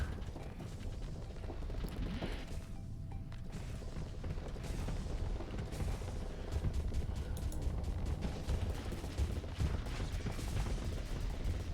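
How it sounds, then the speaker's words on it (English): Rapid bursts of spaceship cannon fire and booms in the game Starsector over a constant mechanical rumble, sustained and busy throughout, no talking. "So those cannons are doing some nice pressure."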